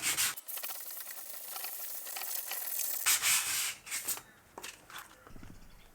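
A cat-back exhaust pipe being hand sanded in a crosshatch pattern gives a close, continuous abrasive rubbing hiss that shifts in texture partway through, with a few brief scrapes, no voices.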